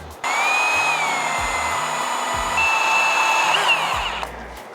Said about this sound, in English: we got to start by drilling an 1/8 inch hole and then a 5/16 hole